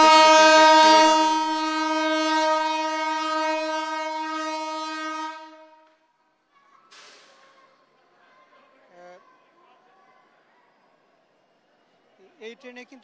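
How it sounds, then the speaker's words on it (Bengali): The Rupshi Bangla Express passenger train, running from Dhaka toward Benapole, gives a loud, sustained horn blast lasting about five seconds. Afterward comes a quieter stretch of faint rumbling and scattered noises. "এখন যে ট্রেনটি সেটি কিন্তু ঢাকা থেকে বেনাপোলের দিকে যাচ্ছে"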